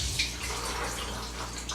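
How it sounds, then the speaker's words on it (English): Milk pours steadily out of a bowl in a continuous liquid splashing stream during chicken preparation for pan frying, close and fairly loud with no talking. "Since I don't want to be digging my hands into the milk, I'm going to pour this bowl out."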